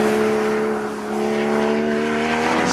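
Porsche Cayman GTS sports car with lowered ride height, engine droning loudly at steady revs while driving, a strong tonal hum that dips briefly then climbs again, heard from inside with no talk.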